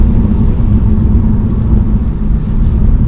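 A BMW 330ci Clubsport driving at about 40 mph in a low gear gives a loud, steady engine drone with deep road rumble, constant throughout with no talking.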